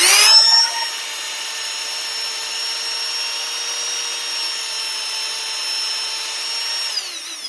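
Mixer grinder motor running at home after a brush replacement, a steady high-pitched whine with strong harmonics that starts with a brief loud surge, holds even for several seconds, then winds down at the end; no talking.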